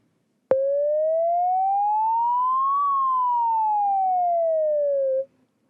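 A single smooth electronic tone rises slowly and then falls again, like a slowed-down siren wail, steady and clear with nothing else around it.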